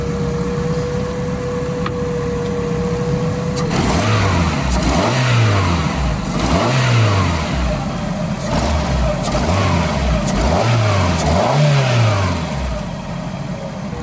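A small Ford Ka car engine idles and then revs repeatedly in a steady series of rising and falling surges, close and loud, with no voices.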